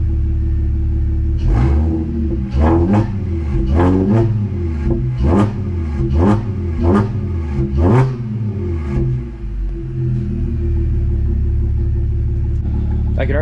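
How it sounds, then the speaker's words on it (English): Audi S4 with a stage 2+ tune revved repeatedly, a string of about eight quick throttle blips rising and falling over a steady idle rumble, loud and close, then settling back to idle. "we'll give it a couple revs anyway"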